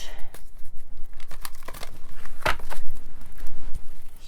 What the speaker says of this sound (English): Shuffle all of the decks.